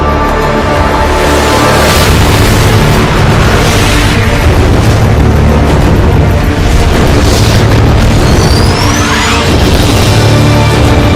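Enemy gunfire and explosions in an animated war film, loud continuous booming blasts and rumbling bursts filling the whole stretch, with a brief whistling streak late on.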